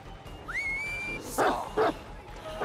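A dog in a Dead by Daylight match gives two short, sharp barks near the middle, preceded by a rising whistle-like tone, all loud and close with no talking over it.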